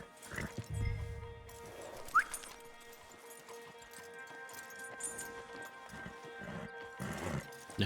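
Horses from Red Dead Redemption 2 clip-clop along with hooves thudding and a brief whinny, a steady near trot under low in-game ambience with faint talk in the background.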